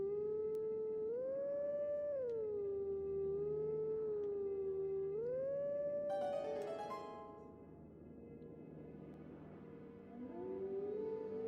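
Wolves in the Twilight Princess video game howl in long, rising and falling tones, with several drawn-out howls close together and a brief burst of other sound partway through.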